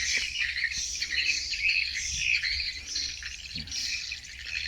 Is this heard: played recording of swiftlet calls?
yes